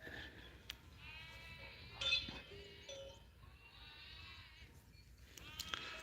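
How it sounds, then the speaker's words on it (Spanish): Several young lambs bleat in a series of wavering, drawn-out cries, some overlapping, heard fairly close against a quiet farm background with no talking. "¿Cómo berrean los corderinos?"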